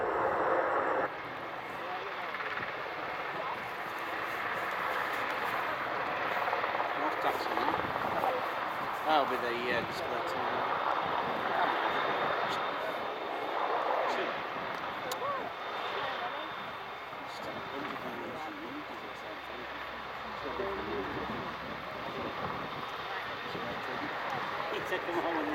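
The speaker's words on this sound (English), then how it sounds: "ready for the Merlin to make an over-the-shoulder departure in the downwind direction" An AgustaWestland Merlin HM2 helicopter departs at an air show, its engine and rotor noise a steady, moderately distant roar that holds for the whole stretch, with a voice commentating over it.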